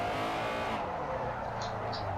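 A car drifts on the Fujimi Kaido mountain course in Forza Motorsport 4, its engine droning loud and continuous with a tire-scrub roar that softens partway through.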